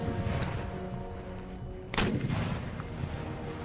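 Artillery and musket fire in the strategy game Empire: Total War during a siege assault, with a steady rumbling battle din and one sharp, loud cannon blast near the middle.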